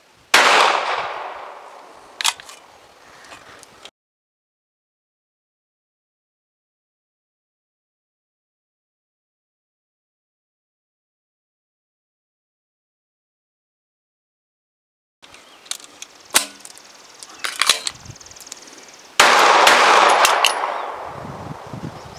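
A Sig 365 XMacro and an FN 509 CC Edge pistol, one fitted with a compensator, fire a handful of sharp, loud shots. They come in short clusters, separated by a long stretch of silence, heard up close with no talking.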